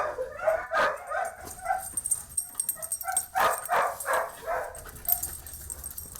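A dog barks and yips in a quick, uneven series of sharp calls, with some whimpering between them, fairly close and clear.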